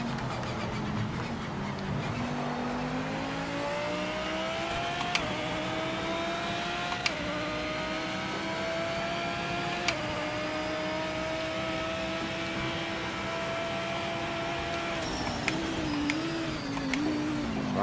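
Race car engines in a racing video game, including a Mustang, droning steadily with rising and falling pitch as the cars accelerate and shift gears, with occasional sharp clicks, sustained and close with no talk.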